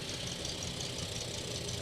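An Allis-Chalmers WC tractor, with a square four-inch bore and four-inch stroke engine, runs steadily in a parade, giving a continuous close rumble with a rough knocking texture and no talk.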